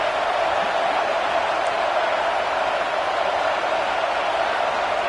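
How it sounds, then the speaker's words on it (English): Dense, unbroken roar of a stadium crowd in a college football video game, Oregon versus Penn State, loud and constant with no talk over it. "wow, listen to this crowd noise. This stadium is vibrating."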